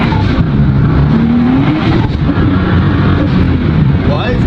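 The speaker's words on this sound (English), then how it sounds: "Every time he drops the hammer, the torque is absolutely mind-blowing." A tuned 2018 Nissan GT-R, all-wheel drive, accelerates hard with a loud, sustained engine roar and rising pitch, close to the microphone over constant rumble throughout.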